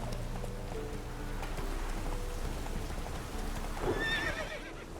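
A horse gallops in the game The Witcher 3, running with mods, its hooves beating a steady, rapid rhythm throughout and a sharp whinny cutting in near the end, with no voices.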